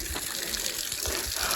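A natural spring-fed stream flows with a steady, soft gush and trickle of water, close by and fairly quiet, with no voices over it.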